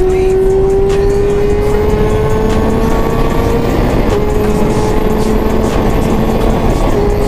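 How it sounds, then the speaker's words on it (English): A Kawasaki ZX6R (Hyper Ninja 636) motorcycle cruises city streets at night, its engine a loud, steady, continuous hum with a slowly rising tone over rushing wind noise. "bike is just humming"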